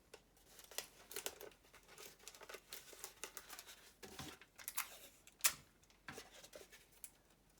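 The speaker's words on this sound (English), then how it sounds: "Tape all the way around, make sure it's good and secure" Sticky tape being wrapped around a piece of paper to secure it, giving faint crinkling, peeling and tearing sounds in irregular bursts, with one sharper rip partway through.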